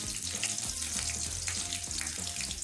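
Potatoes fry in a hot pan with a steady, close sizzle and faint clinks underneath.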